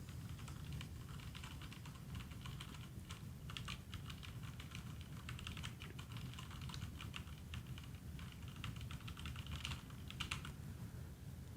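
Fast, dense typing on a mechanical keyboard during a typing challenge, rapid continuous key clatter over a low background rumble, fairly faint and steady.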